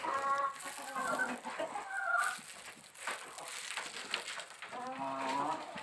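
Rooster clucking to call its hens in a backyard flock, a run of soft repeated clucks and calls with other chickens nearby, moderately close with some background noise.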